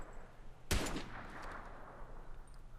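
Enemy gunfire in a video game: a single sharp, loud close shot followed by a brief rattling burst and a fading echo over steady ambient background noise.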